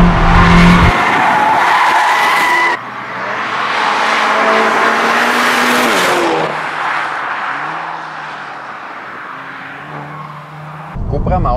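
A 300-horsepower Cupra driven hard on a road, with loud tyre squeals and skidding that rise and fall in pitch alongside engine roar, broken into several close bursts with brief gaps between them.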